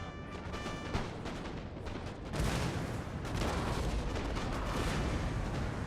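Howitzer artillery booms in a Napoleonic battle in Napoleon Total War, a heavy blast rising out of a steady roar of distant cannon fire and battlefield noise.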